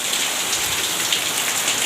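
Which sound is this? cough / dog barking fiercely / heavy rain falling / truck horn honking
heavy rain falling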